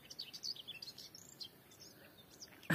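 Birds chirping and tweeting outdoors on a warm, sunny day, a string of quick, faint calls at a distance.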